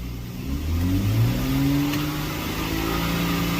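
A BMW N55 3.0L engine revs as the throttle is tapped, rising from idle to a sustained higher pitch and then settling, loud and close up in a garage-like space.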